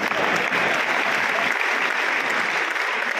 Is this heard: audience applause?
yes